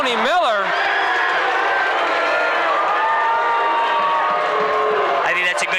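A basketball gym crowd reacts to an offensive foul call at a 1994 boys high school game, a loud sustained wash of voices and jeers that holds steady throughout.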